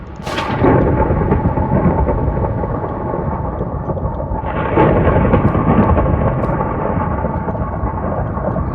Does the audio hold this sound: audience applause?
no